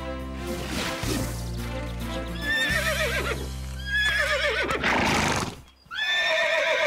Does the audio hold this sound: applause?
no